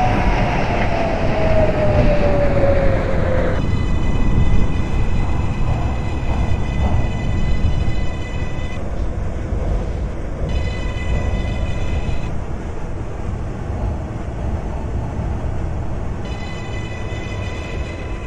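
R142A 7 express subway train running in the OpenBVE train simulator game, a steady roaring rumble of wheels and motors with a high whine that cuts in and out in stepped tones.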